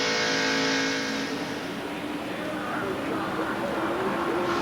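NASCAR race cars roaring around the track at the 1993 Winston 500, a dense engine drone swelling and fading as the pack passes, with a commentator talking over it.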